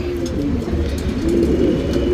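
A male racing pigeon coos in low, soft, continuous murmuring close by, against a steady background hum.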